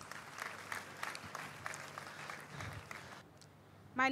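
Quiet, scattered clapping rises from a church congregation applauding Jesus Christ, soft and fairly distant, fading out near the end before a brief louder sound breaks in.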